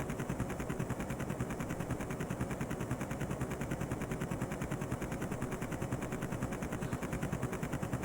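Rapid machine-gun fire and cannon blasts from tanks in the video game Zeewolf, a dense continuous rattle of shots going on without a break, with no talking.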